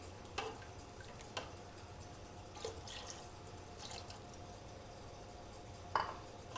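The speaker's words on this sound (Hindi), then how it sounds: "आहिस्ता आहिस्ता इस तरह डालें और चम्मच हिलाते जाएं" A spoon stirs beef nihari in a pot as a flour mixture is slowly added. Sparse soft clicks and scrapes sound over a faint, steady bubbling background, quiet and close, with no talking.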